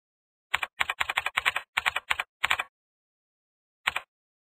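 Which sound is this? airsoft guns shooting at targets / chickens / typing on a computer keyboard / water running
typing on a computer keyboard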